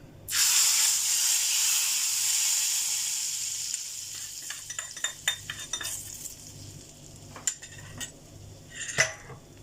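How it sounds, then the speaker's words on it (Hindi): Hot oil poured over chicken in a pan bursts into a loud, bright sizzle that gradually settles, followed by scattered clinks of a utensil against cookware. "अब ये ऑयल चिकन के ऊपर ऐड कर देना है।"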